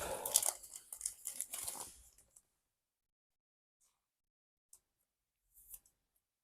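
A 2025 Bowman baseball trading card slides into a protective sleeve, with close, crisp plastic crinkling for about two seconds, followed by a few faint, isolated ticks and rustles after a quiet gap.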